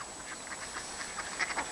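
Ducks squabble over bread with a rapid string of nasal quacks, moderately close and growing busier and louder toward the end, over a light outdoor background with no talk.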